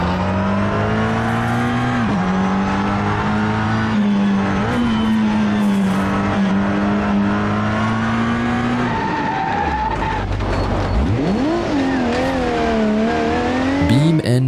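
A rally car races on tarmac in a driving game, its engine droning loudly and steadily, then revving up and down through gear changes, with tires squealing through the corners.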